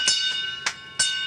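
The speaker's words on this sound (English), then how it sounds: "with the ringing of the bell by NASA astronaut" A ceremonial bell aboard the International Space Station, rung by NASA astronaut Jack Hathaway to mark a change of command, gives four quick bright metallic strikes, each ringing on briefly, close and clear.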